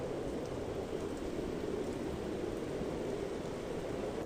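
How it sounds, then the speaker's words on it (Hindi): Heavy rain pours down steadily over a village in an animated story, a dense, even hiss with no pauses or voices. "हे भगवान, इतनी तेज बारिश।"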